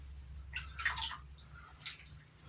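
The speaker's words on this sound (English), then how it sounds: "Let's put a little bit more water in here." Small splashes and trickles of water added into a bowl of shaving soap for lather, two soft bursts close by and fairly faint, with no talking.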